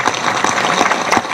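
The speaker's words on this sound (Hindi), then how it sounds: "और जोर से ताली बजा के धन्यवाद करो।" A large crowd at a political rally in support of women wrestling champions applauds loudly and steadily, with dense continuous clapping and no talking.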